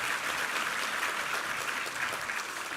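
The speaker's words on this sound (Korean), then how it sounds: "우리 하나님께 감사와 영광의 박수 올려드리겠습니다." Steady, dense applause from a large church congregation during a sermon, continuous and fairly loud throughout with no talking.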